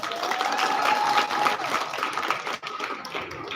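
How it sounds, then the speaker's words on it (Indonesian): Audience at a school event applauding, a brisk patter of clapping with a faint tone or voice beneath, briefly dipping before resuming. "tepuk tangan untuk kita semua"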